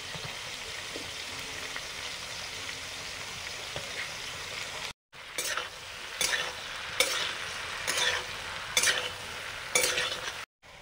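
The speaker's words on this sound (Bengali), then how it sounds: "গাজরটা ভেজে নিচ্ছি। চিচিঙ্গা ভাজা করছি।" Carrot and snake gourd frying in a pan of oil, a steady soft sizzle broken by a series of scraping stirs after a short gap, with no one speaking.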